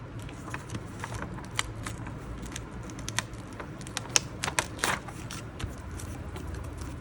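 Soft crinkling and light papery rustles over a steady background hiss, with scattered small ticks as thin sheets are handled nearby.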